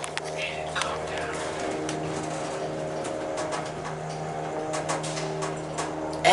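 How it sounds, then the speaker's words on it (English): A Schindler 300A hydraulic elevator motor hums with a steady pitched drone, faint harmonic tones holding throughout, while someone talks softly over it and clicks and taps scatter through. "Listen to this motor."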